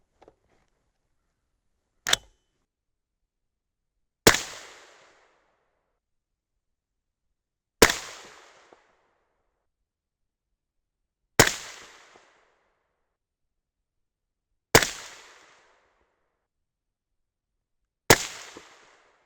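Six sharp, loud rifle shots ring out one by one at an outdoor range, several seconds apart, each followed by a short decaying echo, with quiet between shots. The rounds are 77-grain Berger OTM bullets with CCI BR4 primers.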